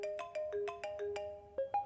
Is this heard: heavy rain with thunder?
no